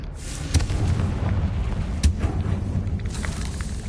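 A Confringo fire spell explodes in the Hogwarts Legacy video game, giving a continuous low, rumbling roar with several sharper booms bursting out over it.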